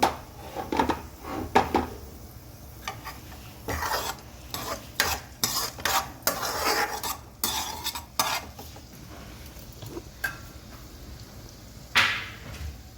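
Onions fry until brown in a pan for paneer toofani, a low sizzle broken by repeated scraping strokes of a spatula against the pan, uneven and close, with no speech.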